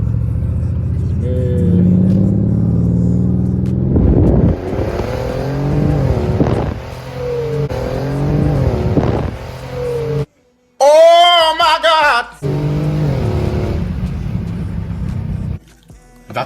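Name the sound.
Mercedes twin turbo Benz engine revving and accelerating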